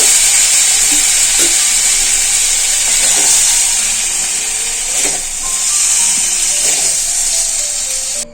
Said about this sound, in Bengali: এই ঝোলের জন্য এই ঝিঙে হালকা করে ভাজা হয়ে গেছে